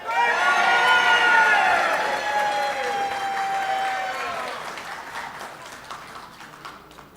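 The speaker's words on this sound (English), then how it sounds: "I want a bigger round of applause for it" An audience at a Parkinson's foundation symposium breaks into loud applause that peaks early and then gradually fades over several seconds, with some whistles and cheers mixed in.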